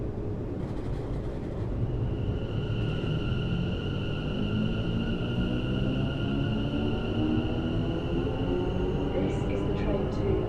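A train departs in Train Sim World 6, heard as a continuous loud rumble with a rising motor whine and steady tonal hum from start to finish.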